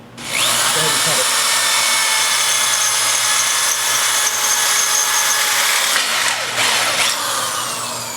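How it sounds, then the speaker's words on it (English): A power drill bores into a colonial shutter during installation, a loud continuous high whine with grinding as the bit cuts, steady for several seconds before easing off near the end. "So I drill the first hole in from one side"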